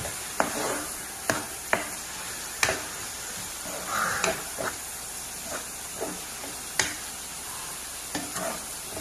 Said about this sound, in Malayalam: അതും കൂടി ഇട്ടിട്ട് നമുക്ക് നല്ലപോലെ വഴറ്റിയെടുക്കാം